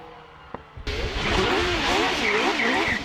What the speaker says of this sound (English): First of the line then, Carl Davidson, former Gurston Down top 10 champion with his 4 litre Judd-powered Gould GR37